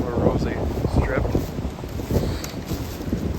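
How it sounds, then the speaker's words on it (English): Strong winter wind blowing across an open hillside pasture where sheep and goats roam, gusting buffets roaring steadily against the microphone, close and loud. "well, it's still windy up here"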